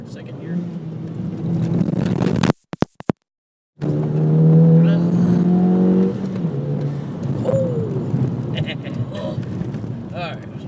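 Engine of a 2007 VW GTI downshifting from third to second gear, its tone stepping through rising and falling revs with a brief dropout, while a person talks over the steady car and road noise.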